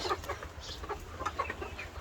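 A farm hen sitting on an egg clucks in short, repeated bursts at close range, with no talking.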